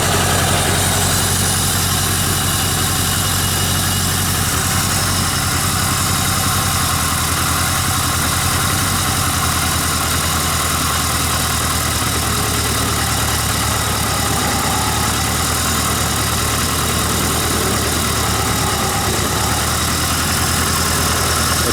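A 1979 Yamaha XS1100 F motorcycle engine idles at a slightly high speed, a steady, loud, close-up rumble that holds unbroken throughout with no talking.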